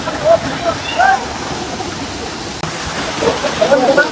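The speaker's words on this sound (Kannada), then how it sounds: "ನೀರು ನೋಡ್ರಿ ಚಂದ ಬೀಳ್ತಾವ ಅಲ್ಲಿ." Water pours steadily at a waterfall near a hill temple, a loud, continuous rushing roar with faint voices in the background.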